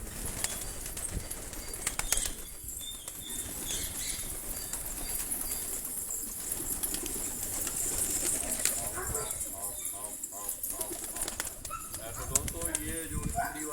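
Pigeons in a loft of tola breed pigeons in Quetta, wings flapping and soft cooing close by, mixed with steady background chatter and occasional clatter, with someone talking throughout.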